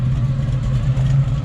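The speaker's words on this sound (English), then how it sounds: "Chevy Nova SS leaving." A Chevy Nova SS drives out of a car show, its engine giving a loud, deep, steady rumble close by with a slight rise in revs.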